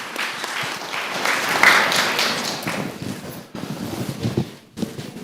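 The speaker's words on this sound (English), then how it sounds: "round of applause for you guys" An audience at a summit breaks into a full round of applause, a dense wash of clapping that swells in the first seconds and then thins toward the end.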